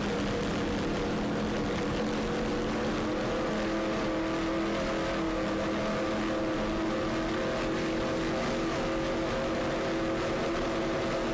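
Powerful offshore racing powerboat engines roar in a steady, dense drone with layered tones at the start of the 2004 Marathon Offshore Grand Prix, heard from a distance without interruption.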